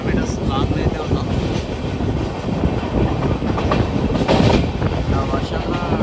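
Vasco-da-Gama Express train running from Hubballi toward Kurnool, a loud steady rumble and clatter of wheels on rails heard from on board, continuous throughout.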